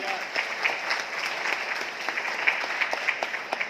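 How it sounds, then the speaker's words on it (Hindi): Enthusiastic audience applause at a rice bran oil promotional event, a steady burst of many people clapping close by, with individual sharp claps standing out through the brief wash. "एक बार जोरदार तालियां ईशा जी के लिए।"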